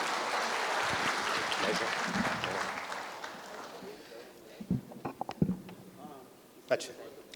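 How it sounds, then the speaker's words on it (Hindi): An audience at a Hindi comic poetry gathering applauds steadily, a dense wash of clapping that fades out midway and leaves a few scattered, sharper claps near the end. "मरी मरी ताली मत बजा ना, ढंग से बजा दो भाई।"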